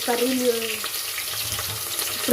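Onions going into hot oil with cumin in a home pan for kichidi, a steady close sizzle and crackle that holds for about two seconds with no talking.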